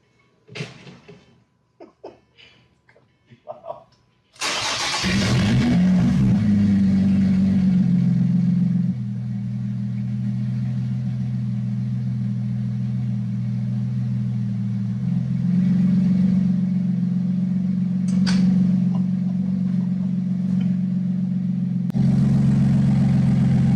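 A modified Lotus Evora S engine starts abruptly and runs with a loud, deep, steady rumble from straight-piped exhaust, holding a rough idle with slight shifts in pitch.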